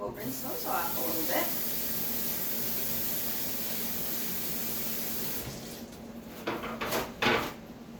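Canned food rinsed under a running kitchen tap, a steady broadband hiss of flowing water lasting most of the time, then breaking into a few splashy bursts near the end; a person talks over the start.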